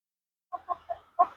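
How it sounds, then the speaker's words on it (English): Pet birds clucking nearby, four short clucks in a loose rhythm with the last one loudest, in an otherwise quiet room. "Say hi to all the birds."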